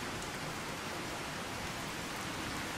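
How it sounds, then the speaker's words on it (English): Rain in the video game Fallout 4, a soft, continuous hiss of falling drops at an even, quiet level with no voices. "Let's take a look at this rain."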